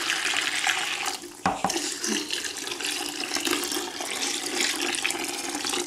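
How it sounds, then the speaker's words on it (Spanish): Hot water pours into a container of percarbonate laundry soap mix, a steady rushing splash with a brief sharp burst partway through, loud and close with no talking. "Le voy a poner el agua caliente."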